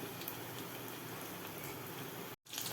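Vada, a fried lentil fritter, cooks in a pan of hot oil with a faint, steady bubbling crackle throughout, cut off by a brief silent gap near the end before resuming.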